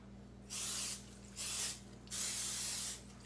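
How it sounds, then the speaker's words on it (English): Cooking spray hisses onto a waffle maker in three short bursts, each about half a second long, close and crisp against a quiet kitchen hum. "spray that baby"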